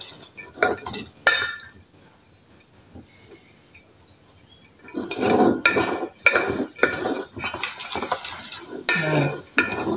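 Spoon stirring and scraping homemade pet food paste in a bowl, with a few clinks early on, a quiet pause, then a steady run of close, rhythmic scraping strokes.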